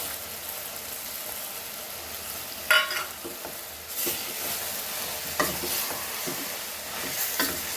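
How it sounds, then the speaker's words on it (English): Mango pieces are stirred into a Goan crab xacuti masala in a pan, with a steady low sizzle and a few scraping knocks of the spoon, close and moderately loud, no voices. "Now we'll add our mango in this."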